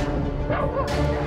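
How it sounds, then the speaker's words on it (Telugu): Dogs growl and bark close by in a dense, continuous burst of snarling and yapping, heard on a street during a film scene with background noise filling the short stretch. "కుక్కలు మురుగుతున్నాయి."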